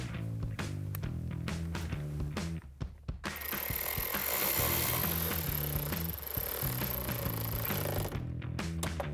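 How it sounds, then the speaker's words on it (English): Ratcheting and spinning as screws are driven with a 7mm socket while a K&N Series 63 AirCharger cold air intake goes into a 2014-2019 Corvette C7, close rhythmic clicks around a sustained whirring driver run. "now we can install our screws using our 7mm socket"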